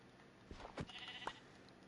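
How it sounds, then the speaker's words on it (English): A sheep in the Minecraft video game gives a few quick, faint bleats in a short burst over a quiet background. "Oh, that sheep. That's mutton."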